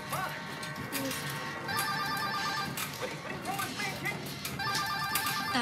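An old-style telephone bell rings in short repeated bursts inside a home, partly under background talk and movement.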